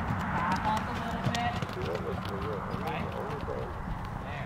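A horse breaks into a canter with a child in the saddle, hooves drumming in a steady rolling rhythm close by, while people talk over it.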